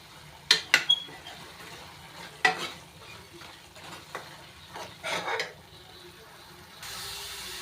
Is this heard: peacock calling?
no